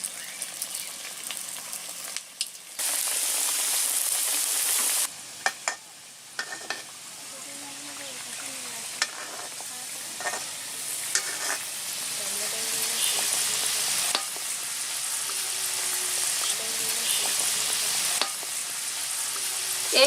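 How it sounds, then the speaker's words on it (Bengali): Mung dal puli pitha fry in hot white oil with a loud, bubbling sizzle that swells and drops as pieces go in, along with occasional utensil clatter and a voice in the background. "এবার আমরা আস্তে আস্তে একটা একটা করে পুলি পিঠা তেলে দিয়ে ভেজে নেব"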